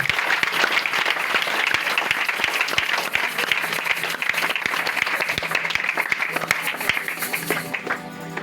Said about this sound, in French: Est-ce que tu peux acclamer très fort pour le Seigneur?